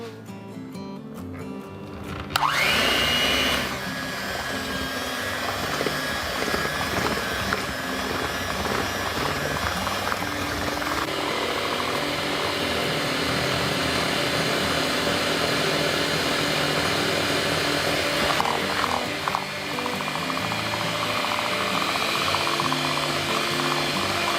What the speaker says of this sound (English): we're just going to beat it for about 2 minutes